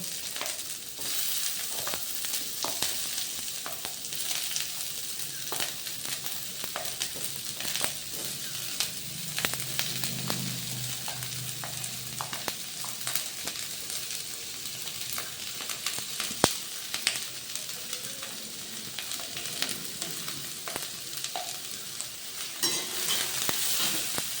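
Green chilli and finely chopped onions fry in oil in a pan, a steady close sizzle with occasional stirring scrapes and clinks continuing throughout, no talking.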